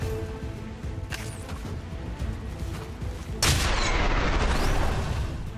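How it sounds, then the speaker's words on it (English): A soldier fires at a Spectre in the XCOM 2 War of the Chosen video game: one sharp, loud gunshot crack with a booming tail, set against a lower rumble of earlier game noise. "Kyron take a shot at the other Spectre."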